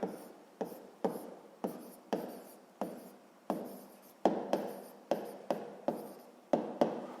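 Someone writes out a sixth-grade maths check by hand, with quick pen or chalk strokes. They come as a steady series of about a dozen short scratchy strokes, each starting sharply and fading, close and fairly quiet.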